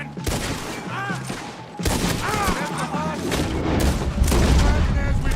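Gunfire erupts in a Red Dead Redemption 2 shootout, a dense fusillade of overlapping shots and booms that stays loud and close throughout, with voices shouting over it.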